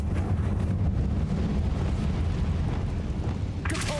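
A Confringo fire spell bursts in Hogwarts Legacy, a booming explosion with a rumbling roar that carries on loudly, ending with a sharp crackling hit.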